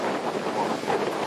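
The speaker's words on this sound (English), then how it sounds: "It's so windy." Strong wind at Yellowstone Lake buffeting the microphone, a continuous loud rushing roar with no speech over the short stretch.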